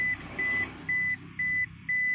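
An HKS Type 0 turbo timer in a diesel Innova beeps as it switches off, giving five evenly spaced, clear electronic tones close up over a low background hum.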